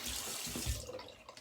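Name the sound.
tap water running for a cold water rinse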